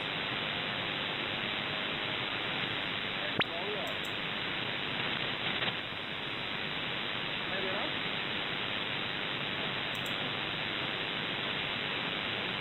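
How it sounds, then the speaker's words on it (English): Steady hiss of radio static on a web-based software-defined radio receiver fills the whole stretch, an even band of noise with only faint blips breaking through. "There's just a bit of white noise and maybe one station in here."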